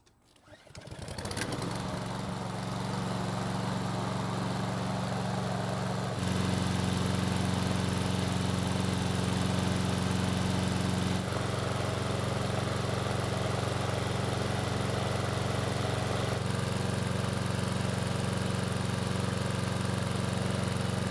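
A small Husqvarna lawn mower engine, smoking badly, starts up and settles into a steady, loud running drone, shifting slightly in pitch a few times as it continues.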